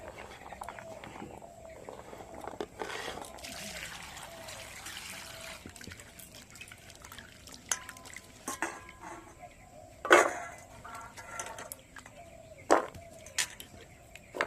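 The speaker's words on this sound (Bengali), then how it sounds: "এবার খুব ভালো করে ধুয়ে নেব।" Chopped carrots being rinsed in water in a kitchen bowl, with soft trickling and sloshing plus a few sharp clinks of a utensil against the dish, fairly close and quiet, with no talk.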